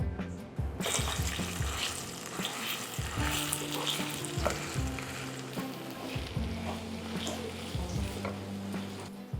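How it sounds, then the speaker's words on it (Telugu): Grated pumpkin, drained of its water, frying in ghee for halwa, with a steady close sizzle and stirring scrapes running throughout, alone without talk. "తరుముకొని వాటర్ తీసిన గుమ్మడికాయని నెయ్యిలో ఫ్రై చేద్దాం"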